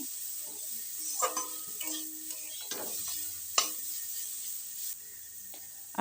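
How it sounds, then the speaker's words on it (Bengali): A spatula stirs a radish paratha filling seasoned with chili powder in a pan, scraping in a few distinct strokes over a quiet sizzle, close and moderately loud with no talk. "তো এটাকে আমি ভালো করে নেড়ে নিচ্ছি"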